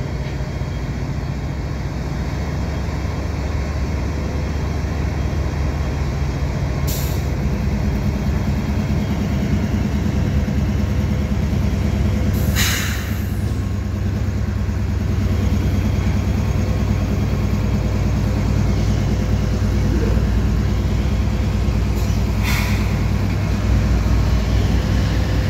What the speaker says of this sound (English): I've got the CP train departing the Port of Montreal